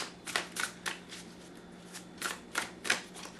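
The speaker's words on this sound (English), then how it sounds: "then I can do more overhand shuffles like this" Tarot cards being overhand shuffled riffle and slap together in a series of quick, soft bursts at close range, an uneven rhythm of shuffling with brief pauses.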